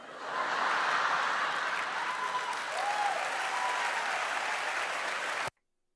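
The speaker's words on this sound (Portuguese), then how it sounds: "E aí o povo aplaudiu, o povo foi à loucura" A church audience bursts into sustained applause for a preacher, dense crowd clapping that holds steady and loud for about five seconds before cutting off abruptly into silence.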